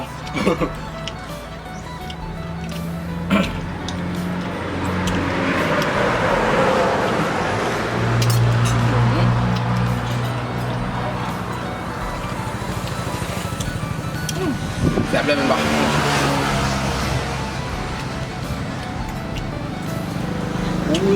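Road traffic rumbles on a Thai roadside, with cars passing in broad swells around the middle and near the end while someone talks over it throughout.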